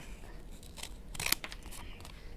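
Scissors cut into paper with a brief cluster of crisp snips, quiet and close, against faint room background.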